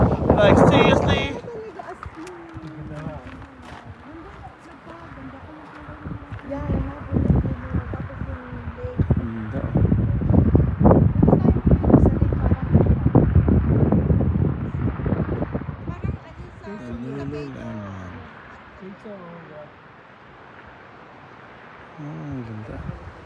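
Strong, gusty mountain wind near Whistler buffets the microphone in loud roaring rumbles that swell and fade, while someone talks over it at the start and end.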